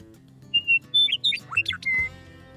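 A person imitates a bird call outdoors in nature, producing a short series of whistled chirps and squawky sliding notes, fairly close and clear over quiet background hum.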